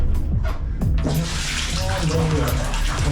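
Water gushing and splashing into the hull of a boat through a leak, a steady loud rush with gurgling, with a few faint voices underneath.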